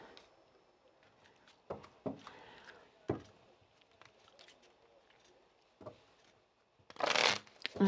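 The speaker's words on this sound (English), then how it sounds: "while I'm shuffling these and getting ready to lay out the box spread" Lenormand cards are shuffled by hand in a quiet room, giving soft, scattered taps and slides, then one louder riffling burst near the end.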